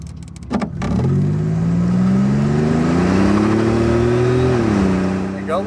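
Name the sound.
1987 Buick Grand National turbo accelerating with tire chirp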